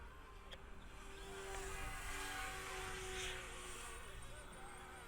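An Eachine E135 beginner RC helicopter hovers and climbs outdoors, its steady high-pitched rotor and motor whine swelling slightly as it flies, faint and a little distant, with someone speaking over it.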